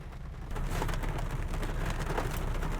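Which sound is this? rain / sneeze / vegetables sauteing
rain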